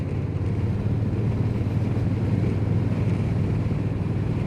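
A 2025 Honda Rebel 1100T DCT motorcycle being ridden gives a steady, loud low engine drone mixed with constant wind rush, with no voices.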